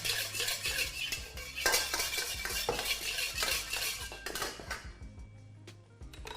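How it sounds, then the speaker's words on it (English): Oil being spread around a smoking-hot wok, with steady close metallic scraping and clinking of a utensil against the pan, busy and continuous before fading toward the end, no voices. "So a little bit of oil, spread that round the wok."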